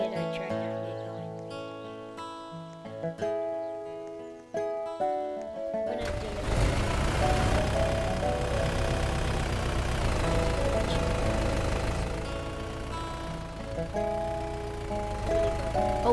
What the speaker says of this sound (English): This tractor is pretty sweet.